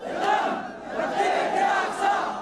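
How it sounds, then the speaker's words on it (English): Large crowd at a rally in Yemen chanting slogans in unison, loud rhythmic waves of many voices rising and falling, no other sounds. "These crowds chanting "Death to America, death to Israel.""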